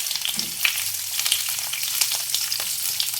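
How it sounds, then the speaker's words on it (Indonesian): Spices for an Acehnese fish curry, with curry leaves and lemongrass, sautéing in oil until browned: an even, crackling sizzle with small pops and occasional faint utensil scrapes, alone without talk. "Tumisnya sampai warnanya kecoklatan dan mengeluarkan harum ya"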